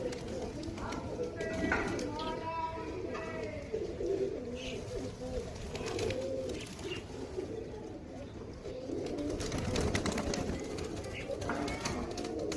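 Pigeons coo in low repeated calls over a steady background, with someone talking throughout most of the stretch.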